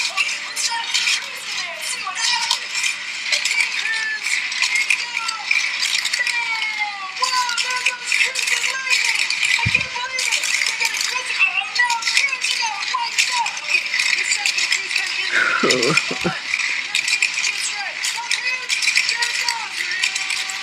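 Busy plastic rattling and clicking from a plastic Cars 3 toy car's motor runs throughout, with a brief thump and a high voice cutting in partway through.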